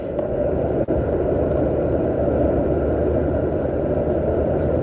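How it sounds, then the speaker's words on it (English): Steady low cabin rumble of a car in motion, heard from inside, dense and unbroken with one brief dip near the start and no talking. "I'm driving right now."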